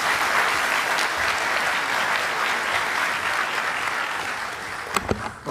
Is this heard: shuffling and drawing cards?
no